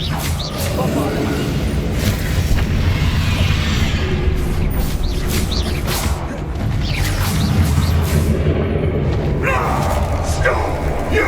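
A Bombarda spell explosion in Hogwarts Legacy fires during a loud spell duel, with booming blasts, whooshes and crashing thuds layered into a dense, continuous roar of battle effects.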